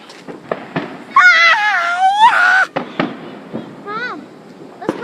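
Firecrackers going off outdoors, several sharp close pops scattered through the scene, mixed with a child's high wailing cry and excited voices.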